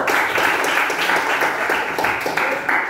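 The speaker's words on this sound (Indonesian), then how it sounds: "Oke, tepuk tangan dong buat Anggaur" Classroom applause for a student during a teaching practice lesson, a steady, fairly loud burst of many hands clapping together without pause.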